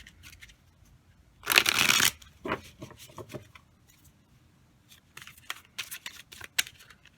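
Tarot cards are shuffled close by in one loud, fast riffling burst lasting about half a second, then a few lighter flicks and taps as cards slide and are laid down, with no voices.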